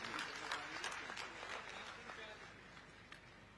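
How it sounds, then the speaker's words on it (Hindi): A crowd at a public gathering marking the creation of the new Mohla-Manpur-Ambagarh Chowki district in Chhattisgarh claps loudly, the applause quite distant and thinning toward the end, with voices faintly underneath. "जोरदार ताली बजा के सब लोग धन्यवाद दीजिए।"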